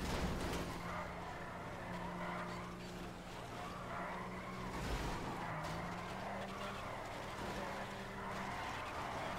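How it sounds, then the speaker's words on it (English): A car drifting in Grand Theft Auto V gives a sustained engine drone with long sliding tire squeals rising and falling throughout, loud and continuous. "He's drifting"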